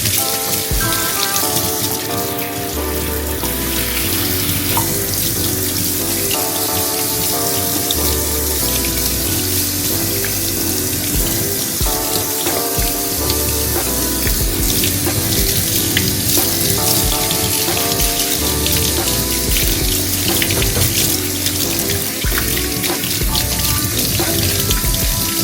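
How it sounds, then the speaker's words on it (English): Tap water runs steadily into a sink while soaked jars are rinsed, a loud continuous splashing hiss with rhythmic clinks and knocks of glass, plus faint music underneath throughout. "Let them soak and then rinse them off."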